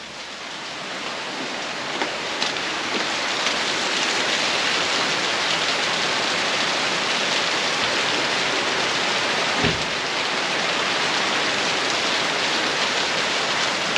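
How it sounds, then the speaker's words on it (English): Heavy rain pours steadily near Long Bay in Portland, Jamaica, a dense, loud, even hiss that swells slightly in the first seconds and then holds constant throughout, with no voices. "strong rain, because I'm wet entirely"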